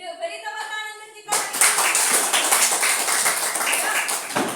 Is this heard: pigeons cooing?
no